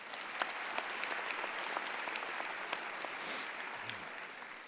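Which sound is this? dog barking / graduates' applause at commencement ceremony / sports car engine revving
graduates' applause at commencement ceremony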